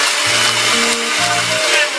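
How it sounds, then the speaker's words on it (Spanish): A kitchen blender grinds cookies into fine crumbs for a no-bake cheesecake, its motor whining loudly in short bursts with brief dips between pulses. "las vamos a licuar hasta que se hagan polvo"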